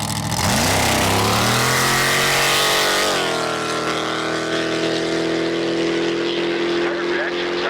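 A drag racing door car launches on ice, its engine screaming loudly as the pitch sweeps upward through the gears, then settling into a sustained high-revving roar as it pulls away.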